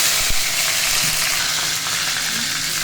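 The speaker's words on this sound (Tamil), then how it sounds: "ரெண்டும் கொஞ்சம் நல்லா பொரிய விடணும்" Fennel and fenugreek seeds spluttering in hot oil in a pan for drumstick sambar, a steady crackling sizzle with occasional small pops, close and continuous with no talking.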